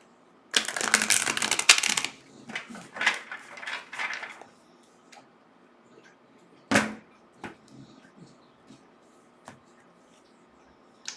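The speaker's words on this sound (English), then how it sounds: "One last shuffle here." Tarot cards riffled in a brisk burst of shuffling, then a series of softer taps and slides as the deck is squared and handled, close and clear in a quiet room.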